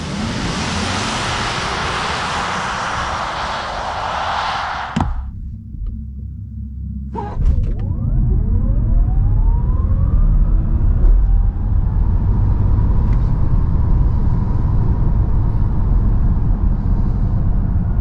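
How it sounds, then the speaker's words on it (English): An Audi e-tron GT with 476 hp and winter tires accelerates hard to 100 km/h on a slightly uphill country road, a rising electric whine over loud road and wind rumble building steadily in the cabin after a brief quiet pause. "let's first try out how fast the car goes on the country road to 100"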